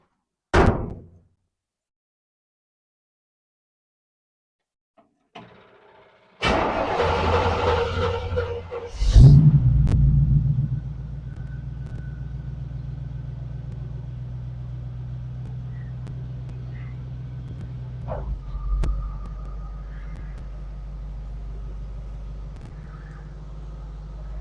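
A 1932 Ford build is moved a short distance: a door thunks, the starter cranks, and a V8 catches with a loud burst, then settles into a steady low idle, with a brief rev near the end.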